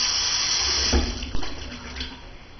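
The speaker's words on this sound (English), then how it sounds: "Alright, what I would do is I would wet the palms of my hands." Tap water runs steadily from a faucet into a sink while hands are wetted, a constant close hiss with a few brief splashes partway through.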